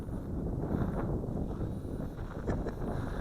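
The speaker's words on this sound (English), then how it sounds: "That wind's picking up even more." Steady wind blows outdoors while a cheap FX808 Red Baron Flybear RC airplane glides with its throttle cut, a continuous low rumbling buffet across the microphone with no talking.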